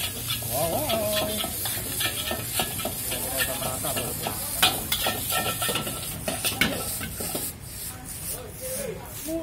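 Javanese noodles are stir-fried in a wok with sweet soy sauce, giving a loud continuous sizzle under repeated scraping and clanking of a metal spatula against the pan, with some faint voices in the background.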